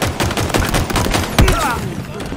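Dense, continuous gunfire in the shooter Halo Infinite, rapid overlapping shots filling the whole moment at steady loudness, with one heavier impact near the middle.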